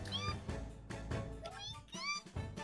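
A cat meows repeatedly in The Great Ace Attorney video game, several short rising mews spaced across the moment, mixed with a speaking voice at moderate loudness.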